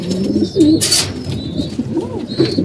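Pigeons coo in a loft, soft rolling low calls repeating close by, with a brief flutter or rustle and a faint high whistle in the background.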